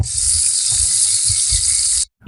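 Garlic paste with chopped onions sizzles in a hot pan, a steady close hiss with soft stirring scrapes and knocks underneath, ending abruptly in near silence.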